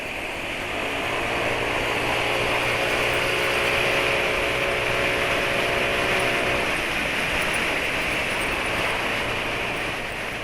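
Engine of a motorcycle being ridden on the road, a steady loud drone with a constant hum and rushing wind, holding an even pitch throughout with no voices over it.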